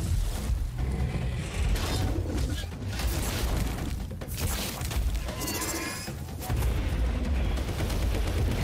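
Machine guns and rockets fire from a hunting creature in a Primal Hunt game trailer, heard as loud, rapid bursts of gunfire and blasts. The bursts repeat in clusters with brief gaps between them, and no voices are heard.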